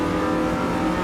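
Race car engines drone loud and steady in Automobilista 2 during a five-lap race at Road Atlanta alongside a Camaro, a dense, continuous mid-pitched roar with no break.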